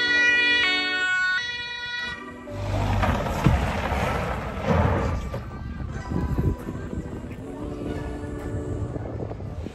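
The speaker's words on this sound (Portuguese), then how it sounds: "Agora lá vem a ambulância e o carro da polícia trazendo a vítima e os materiais." An ambulance siren wails close by alongside a police car arriving at a rescue scene in Interlaken, Switzerland, its tones rising and falling before giving way to loud wind buffeting and engine noise.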